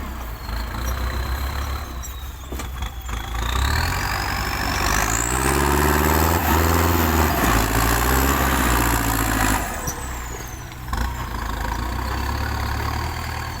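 A tractor engine runs steadily at a muddy work site alongside dump trucks, its heavy low rumble rising and revving through the middle before easing back, loud and close throughout.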